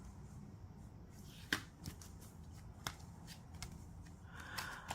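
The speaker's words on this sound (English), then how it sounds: "Give it another shuffle and then" A deck of cards is shuffled by hand for a tarot-style reading, giving soft riffling and a few sharp flicks against a faint steady background hiss.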